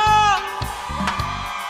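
A loud, close crowd shouts together, opening with a high whooping cry that fades into a dense, sustained wash of voices.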